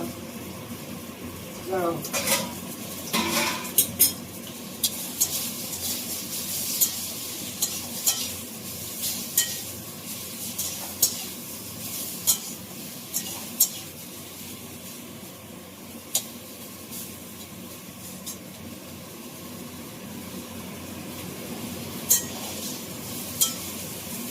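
Spiny gourd (kakrol) frying in oil in a pan, a constant sizzle broken by repeated sharp clinks of a utensil scraping and stirring, with talk over it.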